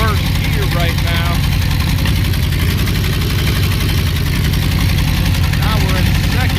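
A Ford 351W V8 with a C4 automatic transmission runs in first gear on a ground test stand, giving a loud, steady, close rumbling idle with constant vibration and no speech over it.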